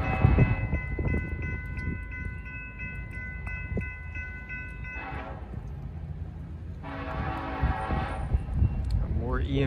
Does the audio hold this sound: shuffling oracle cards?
no